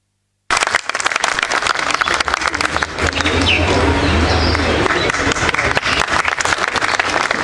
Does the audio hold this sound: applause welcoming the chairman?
yes